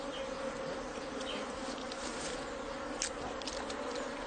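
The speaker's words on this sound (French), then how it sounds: "elle se déchaîne et vous vous retrouvez couvert d'abeilles" Honey bees buzz in a dense, continuous swarm during a honey harvest, a steady close drone that fills the whole stretch with no talk over it.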